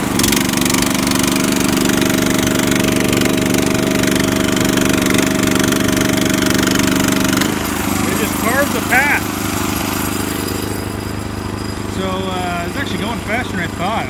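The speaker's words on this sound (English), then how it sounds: "This is like no other tiller I've ever used." A garden tiller runs steadily while tilling up a yard of grass for a new lawn, its loud engine droning close by, then easing to a lower rumble partway through.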